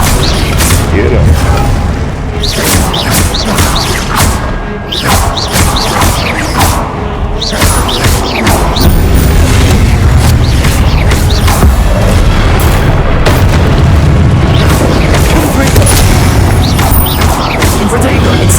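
Confringo fire-spell blasts in the game Hogwarts Legacy, a dense run of repeated loud booms and crashes amid combat noise, with a player talking over much of it.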